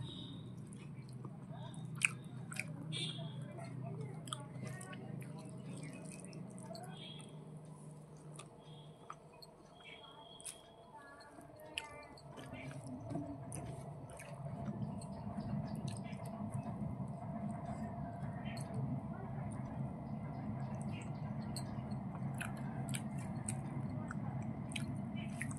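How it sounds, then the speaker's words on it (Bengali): Someone eats a home-cooked meal of egg and rice up close, with soft, quiet chewing and occasional small clicks and squishes over a faint background hum. "ডিম ভাত খেলাম"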